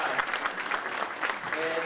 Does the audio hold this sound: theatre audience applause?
yes